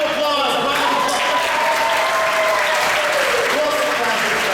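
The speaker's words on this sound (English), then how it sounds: "Give him a round of applause." An audience at a kids' comedy show gives a loud, sustained round of applause, dense clapping with some cheering and voices mixed in, steady from start to end.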